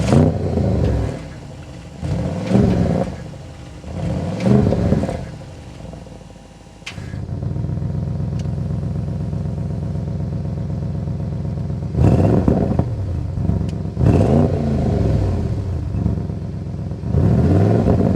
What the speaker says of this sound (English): We need to go inside and start it up so you can hear that exhaust note.